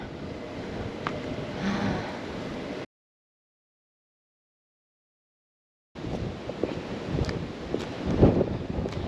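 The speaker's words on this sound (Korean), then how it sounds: "바람 많이 분다" Strong wind buffets the microphone by the sea, a loud rough rumble in two stretches separated by a few seconds of complete silence.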